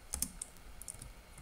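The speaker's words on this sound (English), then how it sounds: "you're gonna wanna type sudo" Keystrokes on a computer keyboard as a Linux terminal command is entered, a short burst of light, quick clicks close by with no talk.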